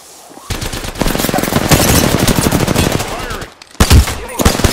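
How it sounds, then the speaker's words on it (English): Automatic gunfire in Apex Legends, dense rapid bursts of shots fired toward the player, loud and close, running nearly continuously with a brief pause before another sharp volley. "The enemies are shooting at me."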